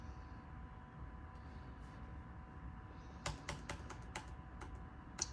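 Typing on a computer keyboard, a quiet run of separate key clicks in an uneven rhythm over a faint steady background hum, with no voices.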